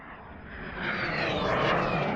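A small propeller airplane takes off at a desert campsite in Big Bend Ranch State Park, its engine drone swelling steadily louder and nearer over two seconds with no one talking.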